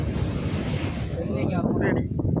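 Sea waves crash against a stone breakwater pier at Manappadu, a steady roaring surf mixed with heavy wind noise on the microphone, close and loud throughout.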